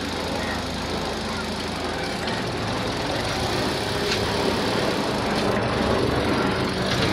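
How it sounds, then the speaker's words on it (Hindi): A Hyundai i20 Sportz engine idles steadily after an engine mount repair, with a smooth, even hum, no vibration and no knocking, loud and close throughout. "अब इंजन में देखिए पूरा स्मूथ हो गया"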